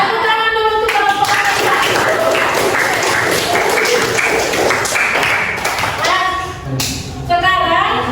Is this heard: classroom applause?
yes